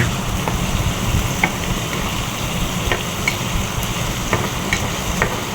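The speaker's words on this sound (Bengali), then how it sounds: "যখন এটা ভাজাভাজি করছি" Steady sizzling of chicken frying in a pan for a chicken roast, with occasional soft scraping or stirring clicks, fairly close and continuous throughout.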